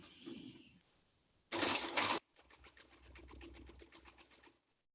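A sewing machine stitches a shirt sleeve cuff in a steady rapid mechanical run of needle strokes lasting a few seconds, preceded by a brief loud burst of noise.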